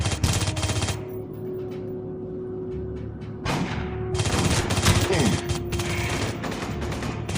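Shotgun fire in the sci-fi shooter Aliens: Colonial Marines, a few loud sharp blasts separated by quieter stretches of in-game ambience and echoing reports.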